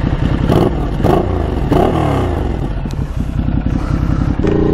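A motorcycle that has lost its exhaust silencer revs hard in several loud, rough bursts, then settles into a throbbing idle close by.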